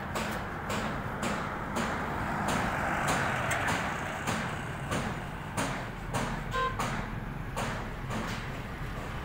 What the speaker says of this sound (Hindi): बाइक चला के देख रहे हैं गड्डी।